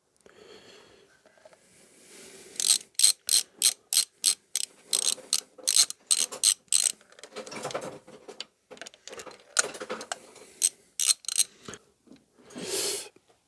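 Ratchet wrench working to remove a spark plug from a Rover 75 engine, with bursts of rapid clicking strokes in an uneven rhythm, close and clear, with a short pause midway.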